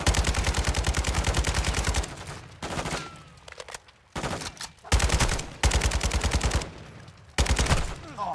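Call of Duty: Modern Warfare 2 gunfire on the US–Mexico border mission: loud, rapid automatic bursts that last one to two seconds, broken by brief lulls and scattered single shots.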